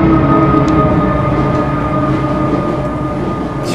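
Simulated DB BR232 diesel locomotive hauling a freight train near Augsburg in Train Simulator 2013, a steady loud engine drone with rail rumble running throughout, no voices.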